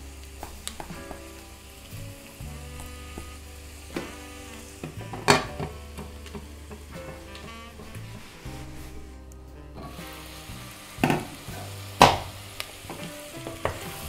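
Chickpeas fry with white spice in a pan for a fasting-style Ethiopian injera fitfit, giving a steady sizzle under scraping stirs, with a few sharp knocks of the utensil against the pan.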